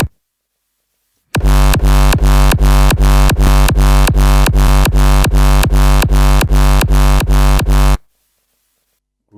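Hard dance techy kick drum with a layered punch, hitting hard and loud in a steady four-on-the-floor run of about sixteen booming beats, then stopping abruptly into silence.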